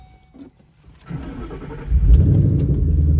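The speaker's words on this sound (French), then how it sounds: "Le son du V8 américain, quoi. Tu l'auras jamais ailleurs." American V8 car engine turning over and catching, then revving up into a loud, deep, rumbling idle close by; no voices.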